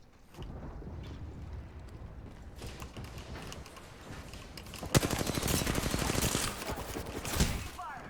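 Rapid automatic gunfire crackles in Apex Legends, building from scattered bursts into a dense, loud volley near the end, with faint voice lines mixed underneath.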